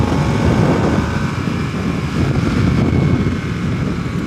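A 2022 Harley-Davidson Nightster engine rumbles low and steady while the motorcycle leans into a turn, mixed with strong wind buffeting, loud and close throughout.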